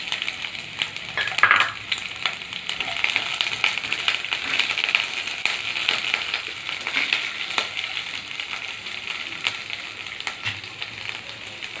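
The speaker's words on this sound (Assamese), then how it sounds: "তাৰপিছত আমি দিম এই কেপচিকামখিনি।" Capsicum sizzles in a pan for paneer chilli, a steady, close frying hiss with stirring scrapes and a brief clatter early on, continuing evenly throughout with no talk.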